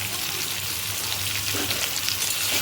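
Cauliflower frying in hot ghee gives a steady, close sizzle that holds evenly throughout, with no voices over it.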